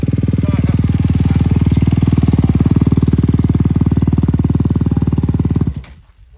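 A Honda motorcycle engine runs loud and close with a steady, fast pulsing drone, then cuts off abruptly near the end, leaving a brief quiet tail.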